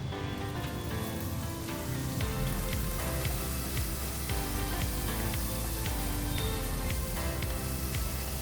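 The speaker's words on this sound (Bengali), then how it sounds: "এবার ওই তেল ও ঘিয়ের মধ্যে দিয়ে দেব কাজু বাদাম।" Cashew nuts fry in hot oil and ghee, giving a steady, dense sizzle that crackles evenly throughout with small pops, close and fairly loud, with no voices.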